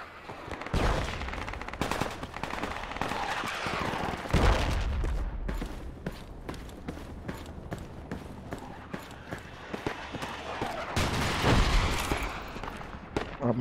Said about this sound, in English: Enemy mortars coming down on us here.